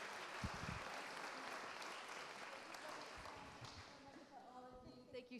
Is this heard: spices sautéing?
no